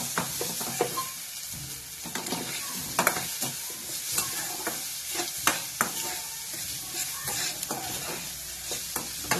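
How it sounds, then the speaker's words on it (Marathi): A spoon stirs and scrapes a sizzling pan of cutlet mixture made from ground peas and chilli. The clinks and scrapes come in an irregular rhythm over a steady frying hiss, close and clear, with no talking. "आता हे मिश्रण चांगलं हलवून घ्यायचं।"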